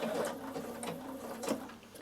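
A Bernina sewing machine stitches boiled wool in short, close bursts of whirring needle action. Soft clicks and shifts mark slight pauses as the work is repositioned.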